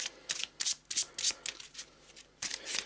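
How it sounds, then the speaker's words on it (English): A treasure card deck for the board game Perdition's Mouth: Abyssal Rift is shuffled by hand, making quick, close riffling bursts in several short rhythmic runs. "Here's the treasure deck. Let's give it a shuffle."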